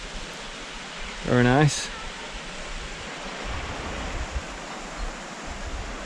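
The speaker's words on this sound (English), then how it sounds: "Look at this. Got two little waterfalls over there." Small waterfalls on the rocky Tintagel coast in Cornwall give a steady broadband rush of falling water and surf, with a brief spoken remark partway through.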